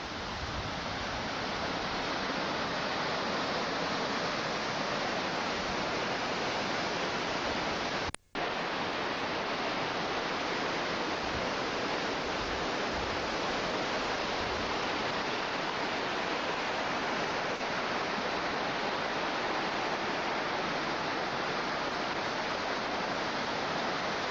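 A waterfall rushes in a steady, dense roar at a fishing spot, loud and unbroken for the whole stretch apart from one split-second dropout, with no voices over it.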